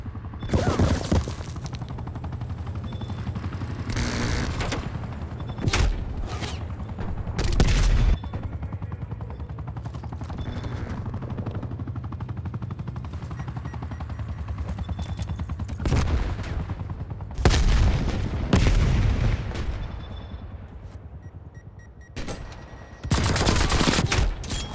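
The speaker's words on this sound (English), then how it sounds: "That's a nail gun." Rapid bursts of nail gun fire in Call of Duty: Black Ops Cold War, loud repeated volleys with short gaps over a steady game background, no talking.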